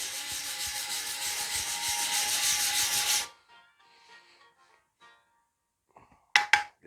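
Sandpaper rasps steadily and loudly for about three seconds as glue is sanded off a bushcraft knife handle, then stops. Faint handling clicks follow, and a short sharp scrape comes at the end.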